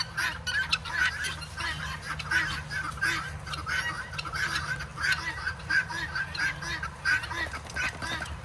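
A flock of birds that follow a walker outdoors, honking and squawking in frequent repeated calls, moderately near over a low background rumble.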